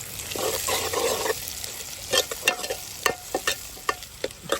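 Tomato and onion sautéing in a pan for a fish curry, a close, busy sizzle under rhythmic scraping and tapping of a stirring spoon.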